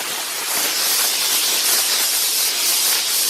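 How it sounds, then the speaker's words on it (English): Compressed air blasting dust off a freshly sanded car panel during primer prep, a loud continuous hiss that stays steady from start to finish with no talking. "then I'll go back and I'll blow all the dust off"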